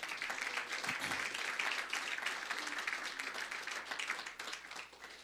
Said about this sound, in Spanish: Otro aplauso al Señor.